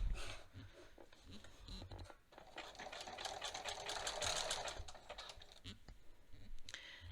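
Sewing machine stitching elastic into a waistband facing finished with bias tape, a fast whirring needle rattle that runs in short bursts with brief pauses, close and fairly quiet, no voices.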